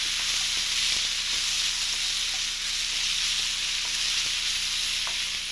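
Garlic, vegetables and pea pods stir-frying in a hot pan, a steady close sizzle with light scraping and stirring clicks throughout.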